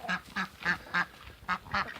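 Backyard egg-laying ducks quack loudly and close by, about six evenly spaced, nasal calls in a steady rhythm with brief pauses between them.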